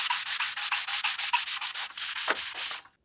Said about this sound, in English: and then after a bunch more sanding